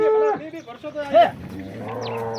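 A pregnant black cow moos up close in a village cattle shed, giving a couple of low calls with a person talking over them.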